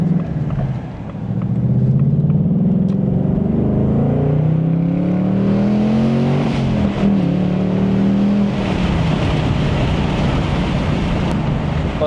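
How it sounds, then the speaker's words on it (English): Ford Mustang Dark Horse V8 engine heard from inside during a spirited drive, loud continuous drone with pitch climbing and falling through downshifts into a corner, blended with heavy wind rush. "Let's get some downshifts around this corner here. Stay right in the power band."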